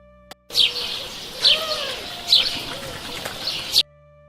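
A small bird chirping in a short series of bright tweets spaced about a second apart, close and clear against a quiet background, with a faint soft tone beneath.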